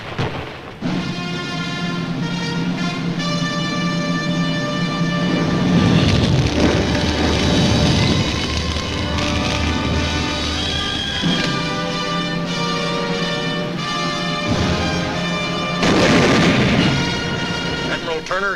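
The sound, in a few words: mortar barrage in WWII battle of Iwo Jima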